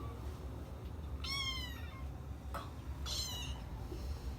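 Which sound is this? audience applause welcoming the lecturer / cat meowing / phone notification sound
cat meowing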